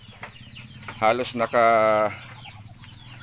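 Hens on a farm give a few close, loud clucking calls, with one longer drawn-out cluck in the middle, while a person talks nearby.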